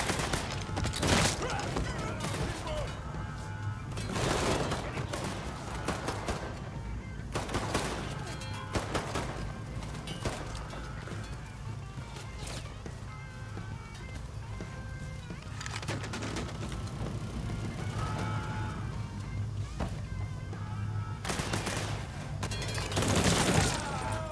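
Gunfire rattles through a Mafia III shootout, with bursts and single shots in uneven clusters over a steady layer of game sound. Talking breaks in now and then.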